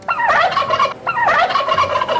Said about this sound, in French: C'est le dindon.